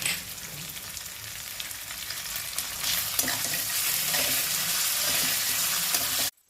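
A ground spice paste for ridge gourd curry sizzles and fries in a hot pan as it is stirred, a loud steady crackle that runs without talk before stopping abruptly near the end.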